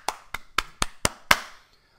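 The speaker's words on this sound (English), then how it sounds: "Round of applause." Six sharp hand claps sound close by in an even, deliberate rhythm, each one distinct with brief silence between. The last clap is slightly stronger, then the room goes quiet.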